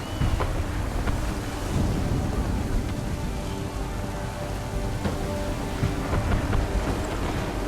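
In Assassin's Creed 3 Remastered, a thunderstorm at sea pours heavy, continuous rain around a sailing ship, with low rumbling thunder and wind under a steady hiss.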